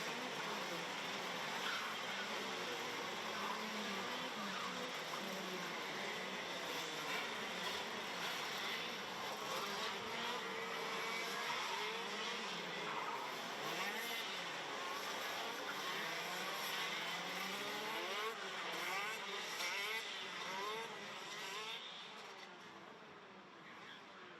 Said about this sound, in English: So the first few drivers are lining up on the grid, revving the engines.